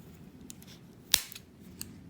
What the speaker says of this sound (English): I just go ahead and cut it right here. And cut it right there.